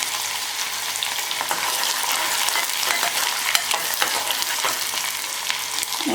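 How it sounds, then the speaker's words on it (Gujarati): Onion stirred into hot oil with mustard seeds and garlic gives a steady, close sizzle with a spoon scraping and clacking in the pan, with no voices heard. "ઓનિયન ઉમેરી અને આપણે હલાવી લેવાનું છે."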